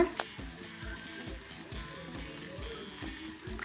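Potatoes and tomato fry in oil in a pan, a steady sizzle broken by regular scraping knocks of a spoon stirring, with no voices.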